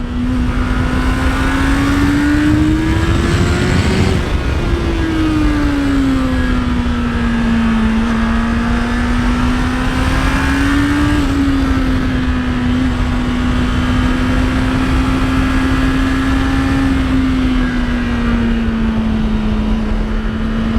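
A 2025 Honda CBR650R E-Clutch motorcycle rides on steadily with a loud, continuous engine drone whose pitch dips and rises through a downshift, the inline-four tone holding close and constant with wind noise throughout.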